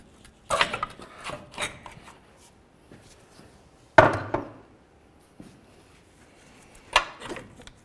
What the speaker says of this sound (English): Use a pry bar. Just try to work this out of here.